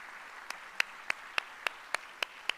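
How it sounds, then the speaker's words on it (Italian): An audience at a televised talk event applauds with sharp, evenly spaced claps at a steady rhythm, fairly faint and heard alone. "la salutiamo con un applauso"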